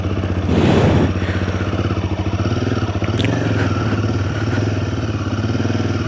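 A motorcycle rides a wet mountain road from Tawang toward Bumla Pass, its engine thrumming steadily up close, with brief clatter and scraping over the rough surface.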